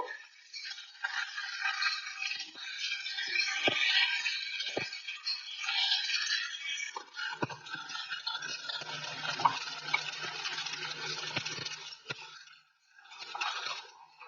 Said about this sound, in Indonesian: Kita tumis menggunakan api besar hingga layu.